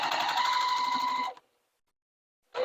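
A sewing machine stitches quilt blocks together with a 1/4 inch seam, running loud and close for over a second, then stopping into silence before starting up again briefly.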